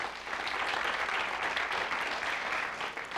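A 1978 David Letterman studio audience applauds steadily and evenly, a dense wash of clapping that holds at full strength for a few seconds before easing slightly.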